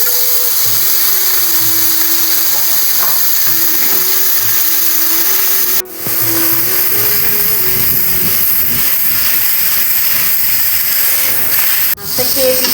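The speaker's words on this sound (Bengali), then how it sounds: "মাছটা এখন তেলের মধ্যে দিয়ে নিচ্ছি।" Chapila fish frying in hot salted oil, giving a loud, steady hissing sizzle that runs throughout with two brief dips.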